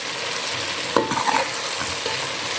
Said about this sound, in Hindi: 1 मिनट हमने इसे अच्छे से भुना है और मुसलसल हमें चमचा हिलाते रहना है